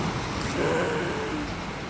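Sea waves break at night on the Mukho coast, making a faint, steady rushing wash of surf mixed with wind.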